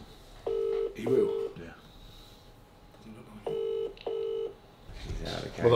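A telephone rings unanswered in a quiet room, two pairs of repeating ring bursts separated by pauses, with brief voices talking between and after the rings.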